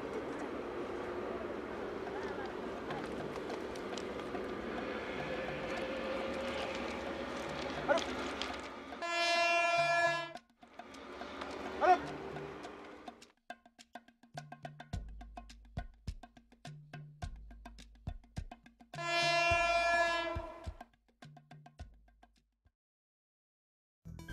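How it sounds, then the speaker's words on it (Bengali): A train rumbles past and slows, then sounds two loud blasts of its horn with clanking between them, ending in near silence. "ট্রেন আসছে, আমি এখন ট্রেনে যাব।"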